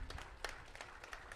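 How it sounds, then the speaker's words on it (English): Audience at an annual bull test and sale in San Luis Obispo, California, gives a scattered round of applause, faint and distant, with sparse individual claps over a quiet room. "Please give a huge round of applause."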